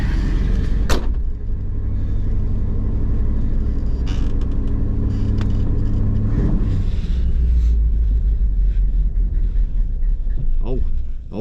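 K5 Blazer pulling into a garage, a continuous low engine rumble close by with a few brief knocks and clatters along the way.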